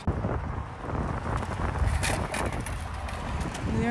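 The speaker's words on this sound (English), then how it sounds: "the wind is blowing a little bit, but it's nice and warm" Wind gusting outdoors at a rest stop in Dunkirk, a steady broadband rush with fluctuating buffeting against the microphone and faint bird calls in the background, fairly loud throughout.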